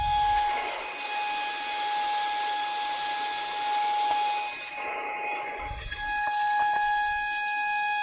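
A CNC router cuts a quarter inch sheet of acrylic in a single pass at a routing demonstration, a steady whining hiss with sustained high tones running the full length, loud and close, with a brief dip near the middle.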